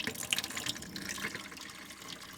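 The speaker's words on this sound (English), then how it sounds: "Water pump back on, and it'll be noisy because I completely drained the system before." A campervan's electric water pump runs after the water system was fully drained, giving a continuous splashy, sputtering gush of water with uneven surges and drips, close by and steady for the whole stretch.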